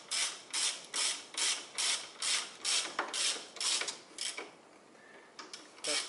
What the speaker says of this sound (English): then I fasten these bolt joint bolts in here